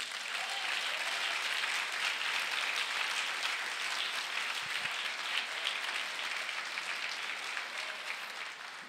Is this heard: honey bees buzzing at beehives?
no